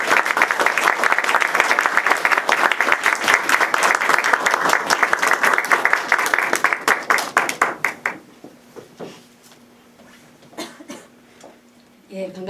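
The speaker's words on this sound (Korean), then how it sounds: "우리 환영의 박수 한번 쳐주시죠." A church congregation claps in welcome for a newly introduced youth ministry evangelist, dense and lively applause that thins into scattered claps and fades out after about eight seconds, with brief speech and isolated claps afterward.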